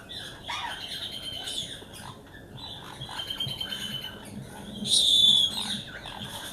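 Blue parrots in a home aviary give scattered squawks and chirps at moderate distance, with a louder burst of calls toward the end.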